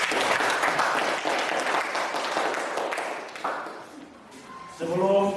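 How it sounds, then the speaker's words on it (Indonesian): Schoolchildren in an Indonesian-language classroom lesson break into brisk, fairly close applause that fades after a few seconds, followed by a brief tone and a teacher beginning to speak. "tepuk tangan untuk kalian semua"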